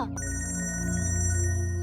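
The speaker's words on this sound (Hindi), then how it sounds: "आपका फोन बज रहा है।" A mobile phone rings with a steady electronic ringtone, its tonal pattern clear and continuous throughout.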